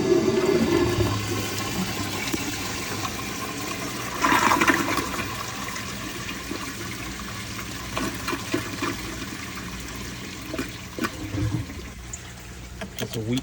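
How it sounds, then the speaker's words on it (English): A 1978 American Standard Glenco toilet with a weak flush rushes and gurgles as it drains and refills, a steady near water roar lasting several seconds, with faint voices at moments. "It's a weak flush."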